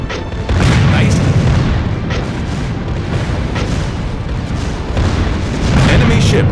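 Naval gunfire and shells exploding against an enemy ship in the mobile game Warship Rising: continuous loud, rumbling booms with repeated heavy blasts layered over a dense battle din.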